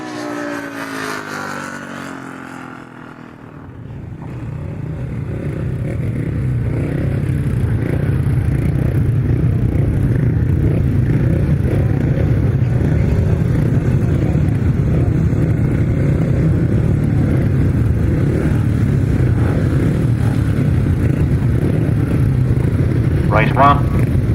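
Grasstrack motorcycles racing at a British Masters qualifier, a dense sustained roar of engines that swells after a brief quieter start and holds loud and continuous, heard at moderate distance with no talk over it.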